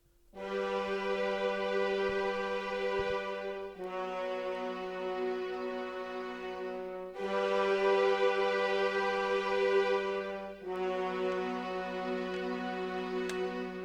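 An R&B sample harmonized with a major third and a perfect fourth plays as sustained synth-like chords, changing about every three and a half seconds, with no talking.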